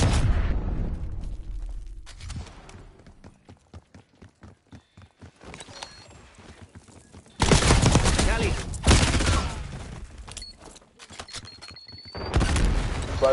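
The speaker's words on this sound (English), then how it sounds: "Incoming flashbang!" Flashbang and gunfire in the video game Call of Duty Black Ops 6: loud bursts of blasts and rapid shots come in waves between quieter stretches of scattered clicks and footsteps-like taps.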